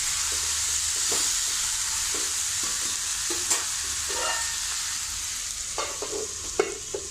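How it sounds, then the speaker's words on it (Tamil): Beans and bengal gram cook in a pan with a steady sizzling hiss, punctuated by repeated scraping and clinking strokes of a spoon stirring close by, with no talking. "நல்ல கிளறி கொடுத்து மூடி வச்சு வேக வைக்கணும்."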